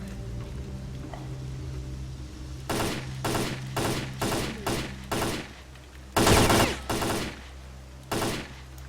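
Video game gunfire comes as a series of loud, evenly spaced bursts, about eight of them, over a steady low background hum, with one longer burst near the end.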